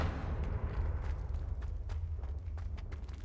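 A Confringo blast spell cast in Hogwarts Legacy, heard as a series of dull thumping bursts over a low rumble, moderately loud and without speech.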